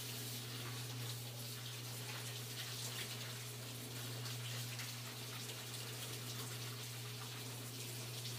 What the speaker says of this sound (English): And I'm going to wash these up. Rinse them out.